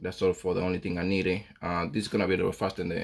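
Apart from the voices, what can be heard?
No distinct noise like a dog, phone or traffic.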